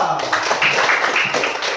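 A classroom of students claps for a presenting group, a dense, brisk patter of hands with a voice speaking over it.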